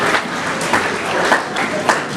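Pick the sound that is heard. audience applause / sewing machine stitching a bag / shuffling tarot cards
audience applause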